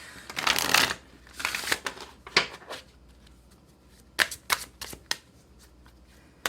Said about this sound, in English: Let me just pull more cards